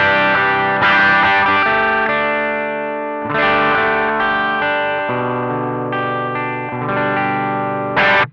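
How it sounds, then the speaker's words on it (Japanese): BOSS ST-2 Power Stack distortion pedal set to a crunch tone on electric guitar, with several loud sustained chords and riffs ringing out in sequence, slightly overdriven and played alone without any voices. "クランチの方向に振り切りました。 非常に使いやすそうなクランチサウンドになりました。"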